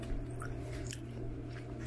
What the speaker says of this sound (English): And excuse my chewing.